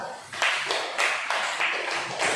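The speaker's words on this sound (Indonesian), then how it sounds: "Berikan tepuk tangan untuk Chandra." Applause for a student named Chandra in a classroom lesson, a group clapping in steady bursts that swell and fade several times over a couple of seconds, fairly close and lively.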